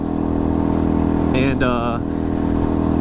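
Small motorcycle riding on cold, wet roads, a continuous close engine drone with a brief rising whine partway through, steady and loud throughout.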